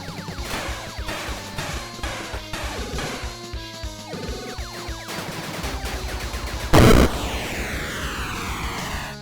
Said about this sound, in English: I think that was the sound of all of those exploding at once